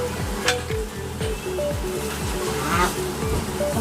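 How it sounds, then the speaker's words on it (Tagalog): Cabbage goes into a pan of tuna and vegetables, a steady sizzle of frying with repeated clinks and scrapes of stirring, close and fairly loud. "Ilalagay na natin yung repolyo."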